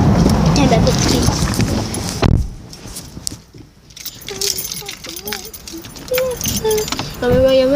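Keys jangle near a car window in bright, clattering bursts early on, followed by quieter shuffling and tonal squeaks, with voices heard in the background.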